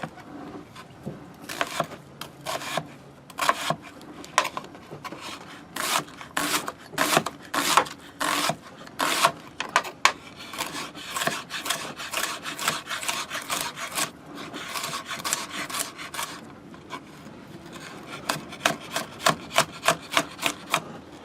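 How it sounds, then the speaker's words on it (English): A knife cuts vegetables on a wooden board in quick, rhythmic strokes, close and crisp, coming in irregular bursts with short pauses. "get all of our vegetables cut up"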